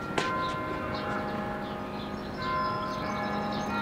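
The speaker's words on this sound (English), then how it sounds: "Oh, bells, Andy." Bells ringing at a distance outdoors, sustained tolling tones layered and overlapping with a slight hum of ambient noise, no talking.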